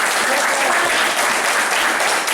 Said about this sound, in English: Let's give our hard-working student minister another round of applause.